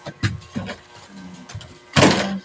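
A door being opened or handled in a Filipino short film: a few soft bumps and knocks early on, then a louder, rougher rattle and thud near the end, close by with no talk over it.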